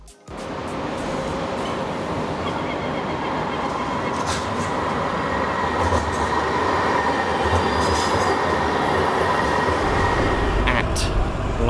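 Riding aboard a West Midlands Metro tram in Birmingham heading to the next stop, a loud steady rumble of wheels on rail fills the cabin, with occasional squeals and clicks over the constant roar.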